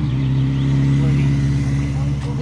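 A moped ridden in from Karlsruhe runs close by with a steady, low engine drone that holds even throughout.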